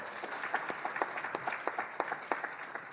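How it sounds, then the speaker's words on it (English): Audience applause at a university awards ceremony, a steady crowd of many hands clapping at moderate loudness, with dense overlapping claps throughout and no speech over it. "Let's give them a round of applause."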